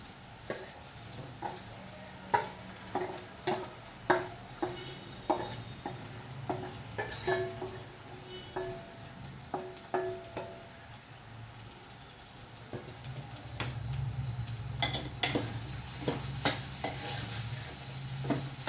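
Rice with vegetables is stir-fried in a pan, giving a steady sizzle under repeated clinks and scrapes of a utensil against the pan that grow busier and louder toward the end.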